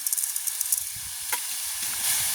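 Chopped tomatoes and salt hit a hot curry pan in a village kitchen, giving a steady bright sizzle with a few soft stirring scrapes and bumps underneath.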